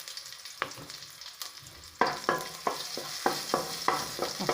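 Green chillies and asafoetida frying in a pan, close sizzling under repeated sharp stirring clinks of a spoon against the pan, with no talk.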